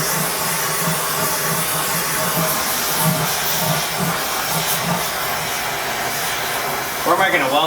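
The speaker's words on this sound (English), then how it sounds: "Look at that clean flame there" A gas torch flame burns with a loud, steady broadband hiss and roar close to the mic during metalwork on a semi truck brake drum stand, holding constant with a brief rattle at the end.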